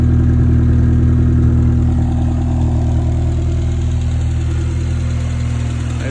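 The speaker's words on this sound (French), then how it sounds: "C'est vraiment un joli super son cette voiture." A restored Triumph car engine idles steadily, a loud close low rumble with an even, continuous drone and no breaks or voices.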